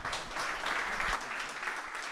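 An audience applauds to welcome a company president onto the stage, with steady, moderately loud clapping filling the whole moment.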